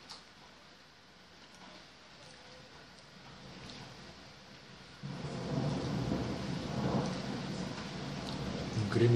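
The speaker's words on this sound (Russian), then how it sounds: "слышите, да? Какой гром." Thunder rolls low and steady over falling rain, quiet at first and then swelling into a louder, broader rumble in the second half.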